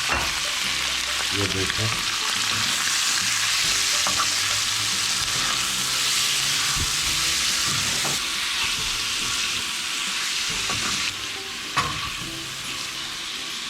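Marinated kaleji (goat liver) sizzles loudly and steadily on a hot tawa, a dense continuous frying hiss with occasional scrapes and clinks, while a voice speaks briefly over it near the start.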